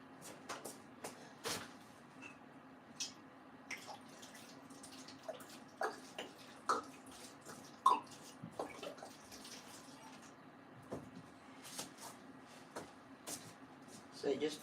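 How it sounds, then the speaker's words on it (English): Water trickles into a seed-starting tray as faint, scattered drips and splashes that come and go over a quiet background. "Just want to put some water in our tray"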